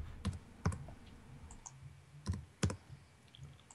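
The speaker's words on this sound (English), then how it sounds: "Why are you typing?" Keys on a computer keyboard click in scattered short bursts, a few sharp taps with pauses between, quiet and close.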